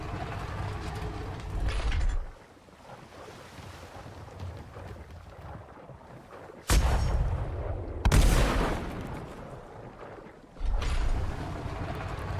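Explosive barrels blasting against a gate in the ATLAS survival game, three heavy booming bursts with long rumbling decays, each loud and close, separated by stretches of low windy ambience.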